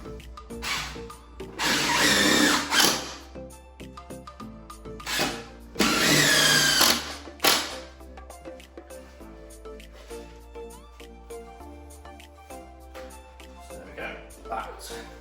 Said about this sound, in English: Get these couple of screws back in the top.